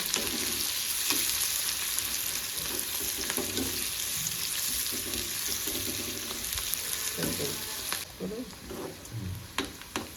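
Chopped onions sauté in a pan until reddish for a spicy matki bhaji, a steady close sizzle with intermittent scraping stirs, quieting briefly near the end, with no talk.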